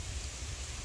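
Steady rain falls during a rainy-day outing, a dense, even hiss of drops with no breaks and no voices.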